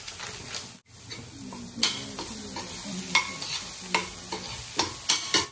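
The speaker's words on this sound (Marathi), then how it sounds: "आपला मसाला छान परतून झालेला आहे" Masala with tomato and fennel seeds stir-fried in a pan, a close sizzle broken by repeated spoon scrapes and clinks against the metal at an irregular rhythm, no talking.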